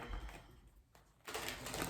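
Tarot cards are shuffled up close, a soft papery riffle and flutter that pauses briefly and then returns louder and denser.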